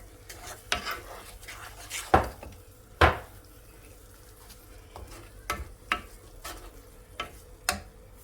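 Onion with salt cooks in a pan for an eggplant and mince dish, a soft sizzle beneath repeated clinks and scrapes of a utensil against the pan, close by and without speech.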